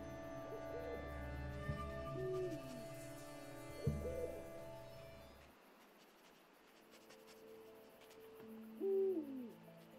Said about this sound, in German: Schon eine Eule. Wo kommt die denn jetzt her?